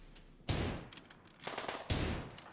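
Bursts of gunfire from a RimWorld colony battle, three sharp volleys with rapid shots, fairly loud and alone.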